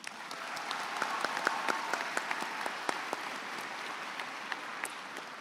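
A high school graduation audience applauds steadily, a dense, even wash of many hands clapping in a large hall, moderately loud and sustained throughout with no talk over it.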